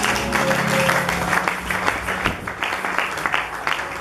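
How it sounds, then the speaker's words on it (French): A church congregation applauding during a sermon, a steady wash of many hands clapping in a room, fairly loud and continuous, with a faint voice briefly underneath. "Acclamons Jésus"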